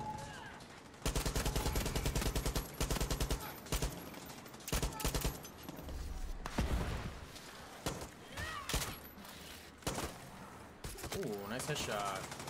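Rapid gunfire in the shooter Far Cry 6 during the mission Operation Sundown, dense bursts and single shots cracking repeatedly over about twelve seconds, with brief gaps and voices talking between volleys.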